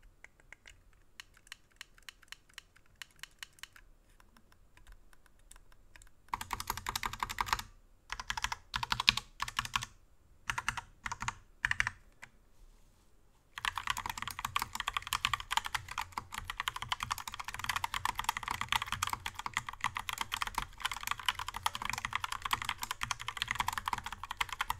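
Typing on a Logitech POP Keys keyboard, quiet at first, then loud dense clattering in bursts with brief pauses, running steadily to the end, close and without speech.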